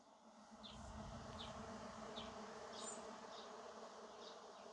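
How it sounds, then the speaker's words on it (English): A swarm of bees passes overhead outdoors, a steady, fairly faint buzzing hum with repeated high whining sweeps as individual insects fly by, and no voices. "Nice swarm of bees just flew over me."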